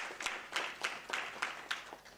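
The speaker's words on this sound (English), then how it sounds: "Another round of applause" A quiet, distant round of applause from colleagues at an academic research seminar, with separate claps at a slow, regular beat, about one every quarter second, and little else around them.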